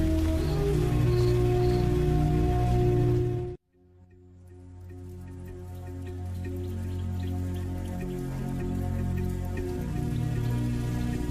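Steady rain pours down on big cats playing in the wet, a dense hiss of drops on surfaces that cuts out briefly, then returns and holds steady at close range.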